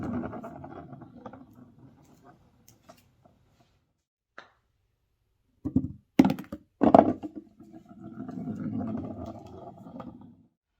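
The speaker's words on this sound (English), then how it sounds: "I was able to reduce the noise in my perfect practice putting mat" Golf balls striking a Perfect Practice putting mat padded to quiet impacts on wood, giving a few soft, close thuds and knocks in a cluster between stretches of low rumbling background noise.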